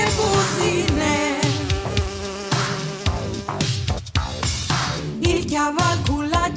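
A fly buzzes loudly and continuously in a children's program, set against a dense, busy backdrop of music and sound effects.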